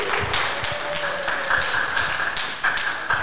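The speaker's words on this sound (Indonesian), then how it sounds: "Oke ya, oke. Tepuk tangan." Audience clapping at a school Ramadan preaching contest, a steady dense patter of many hands applauding together in a hall, with a faint tone droning underneath throughout.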